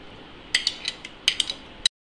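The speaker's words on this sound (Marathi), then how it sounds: "आता मी हे तुकडे ना मिक्सरच्या भांड्यात टाकून घेते।" Muskmelon pieces drop into a mixer jar in a series of sharp, bright clinks and knocks, about half a dozen quick hits close by, ending abruptly.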